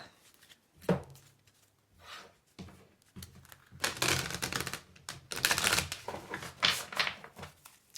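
Tarot cards handled and drawn from a deck, close shuffling, sliding and tapping sounds in irregular bursts, growing busier and louder toward the end, with no voices.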